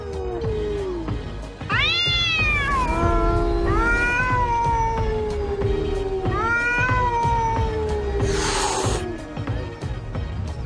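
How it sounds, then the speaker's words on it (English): Cats fighting on an island yowl and caterwaul in long, wavering, rising cries, several overlapping howls with a brief hiss, loud and close over a low background rumble. "And then there are the cat fights."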